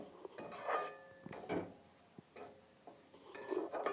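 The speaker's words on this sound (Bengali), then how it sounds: "এইভাবে আপনারা নাড়তে থাকবেন।" A semolina mixture for paratha being stirred in a bowl, several quiet bursts of scraping and clinking from a spoon against the bowl, close but faint.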